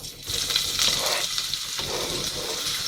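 Finely diced onion drops into a hot pan for an Indian potato curry, bursting into loud, steady sizzling and crackling that continues close up without talk.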